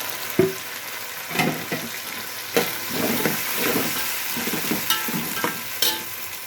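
Vegetable pieces fry in a pan with ginger-garlic paste, producing a crackling sizzle broken by sharp clatters of stirring against the pan. The sounds are close and fairly loud, with no talking.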